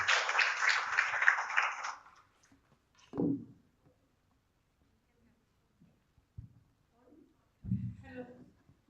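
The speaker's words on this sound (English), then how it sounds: "A round of applause for our distinguished guest" A short burst of audience clapping for a guest at an inclusive-education roundtable, lasting about two seconds before fading into a quiet room with scattered faint speech.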